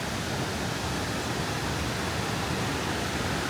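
Steady broadband rush of water pouring through the ruins of an abandoned coal mine's water plant in an Appalachian Kentucky mining town, continuous and fairly loud with no voices over it.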